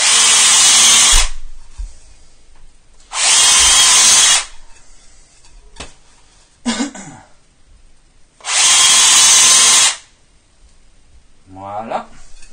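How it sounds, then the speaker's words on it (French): A power drill pre-drills holes into a plasterboard wall in three loud, steady bursts of roughly a second or more each, separated by quiet gaps with a few brief knocks and a short voice near the end. "Normalement, je les préperce pas comme ça sur le mur"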